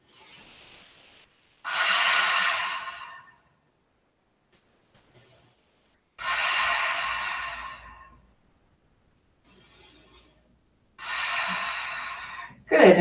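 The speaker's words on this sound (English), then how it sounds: "Take a couple deep breaths here." Deep, slow breathing during a yoga session: three long audible inhale-exhale breaths, each lasting about two seconds, spaced by quiet pauses, close and clear with no talk.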